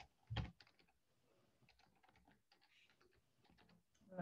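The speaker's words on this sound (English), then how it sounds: "This is just a lot of typing." Computer keyboard typing during data entry in R, a steady run of soft, quiet key clicks with one louder tap near the start, heard alone without speech.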